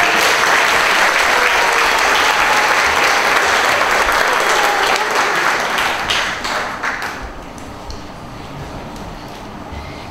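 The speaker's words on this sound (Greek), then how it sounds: "θα υποδεχθείτε με ένα θερμό χειροκρότημα τα παιδιά μας" An audience claps warmly for children at a cultural association event. The applause is loud and dense for about six seconds, then thins and fades out toward the end.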